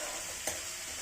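Tomatoes sautéing in a pan for palak paneer give a steady, soft sizzle with faint stirring and one brief clink partway through, close by and alone.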